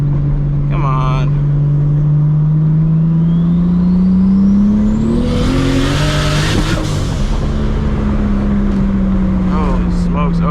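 Toyota Supra MKIV engine with a boost leak, loud and close from inside the car, revving hard with rising pitch under boost, stumbling and cutting out briefly mid-pull, then settling back to a steady drone; a voice is heard faintly.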